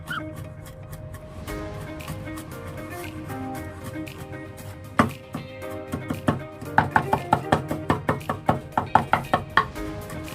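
A knife finely minces garlic on a board for steamed garlic prawns. After a few quiet seconds, quick rhythmic chopping taps build into a close, crisp series of knocks.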